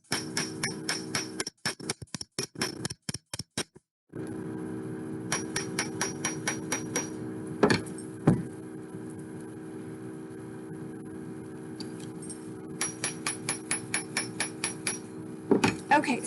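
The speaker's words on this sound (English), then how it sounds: "I'm gonna actually hammer that really hard, and I'm gonna paddle that out flat." Rapid, sharp metallic hammer taps in quick bursts on metal wire being flattened for a bracelet, with brief pauses and a couple of heavier strikes, close by; no speech.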